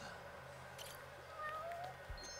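Cat meowing in the video game Judgment, a couple of faint, brief rising mews over a low steady game background hum.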